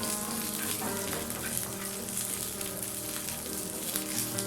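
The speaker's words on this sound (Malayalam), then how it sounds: "ഇനി 1 ടീസ്പൂൺ ബട്ടറിലേക്ക് കുറച്ച് കറിവേപ്പില ഒന്ന് ഫ്രൈ ആക്കി എടുക്കാം" Curry leaves fry in a teaspoon of butter for a Mangalorean chicken ghee roast, with a dense, loud crackling sizzle that stays steady throughout, close up and without talk.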